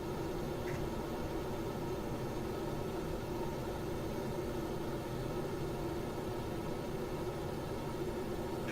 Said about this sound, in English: we're at takeoff. The sound is really loud